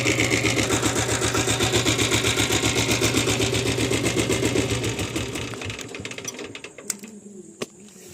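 A Royal Enfield Bullet motorcycle fitted with a diesel engine runs with a steady, rapid, loud chugging beat for about six seconds, then fades and stops, leaving a few sharp clicks in near silence.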